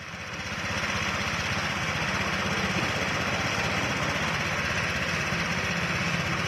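A Honda SH fuel-injected scooter engine idles with worn internal clearances, a loud, close, steady rapid chugging and mechanical rattle that holds constant throughout, with no talking.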